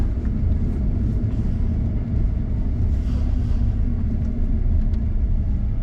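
Cabin of a Tesla Cybertruck Founders Edition while driving, a steady low road rumble and tyre drone filling the interior at constant level, with no voices.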